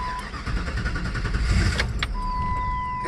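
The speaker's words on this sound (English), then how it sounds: "Turn it on, press the gas, it dies." A 1996 Jeep Grand Cherokee engine running briefly and stalling after the gas is pressed, a close low rumble that swells and then drops away, with a high electrical whine afterwards.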